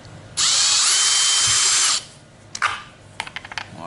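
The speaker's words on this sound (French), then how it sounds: "je vais percer avec ma perceuse" A power drill bores through a milk bottle cap set on a small wood plate, whining steadily at full speed for about a second and a half, then stops, followed by a few close plastic clicks and taps.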